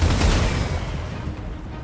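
Artillery exchanged between batteries in Total War: Warhammer II, a dense, rumbling barrage of booming shots heard alone, loud at first and fading slightly over a couple of seconds.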